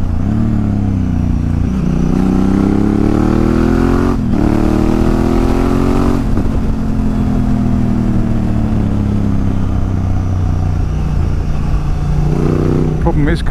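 Riding a Honda Africa Twin motorcycle, its engine droning steadily and shifting pitch with speed while cars pass nearby, all under constant wind rush and a rider talking throughout.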